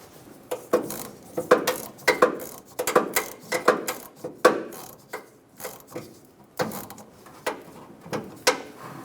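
Hose clamp being tightened on the fuel filler neck hose of a 2014-2018 Chevrolet Silverado 1500, giving a string of short, close metallic clicks and ratcheting taps in irregular bursts, no voices.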